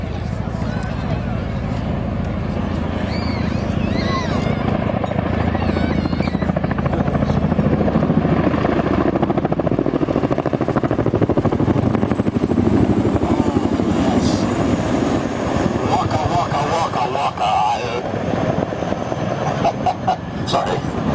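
A Chinook twin-rotor military helicopter of a Special Forces squadron passes overhead, a loud, continuous rotor roar and whine that holds steady and dominant throughout.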